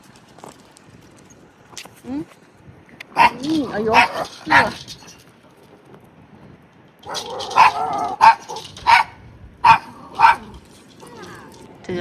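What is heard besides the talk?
small miniature Doberman dogs barking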